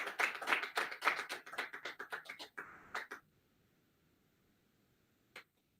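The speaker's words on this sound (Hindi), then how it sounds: "सभी लोग तालियों के साथ सम्मान करें" Applause at the unveiling during the opening ceremony of a virtual philatelic exhibition, a small group clapping in quick separate bursts that fade after about three seconds, then quiet and one last faint clap.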